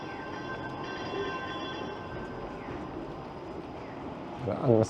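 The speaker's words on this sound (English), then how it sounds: "The unmistakable sound of a Toronto streetcar." A Toronto streetcar on the 506 Carlton line rolls past on a downtown street, a steady low rumble with faint high steel whine and a brief squeal near the end, amid city ambience.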